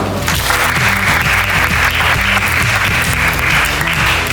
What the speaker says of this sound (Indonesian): Yang kelas 10 boleh tepuk tangan.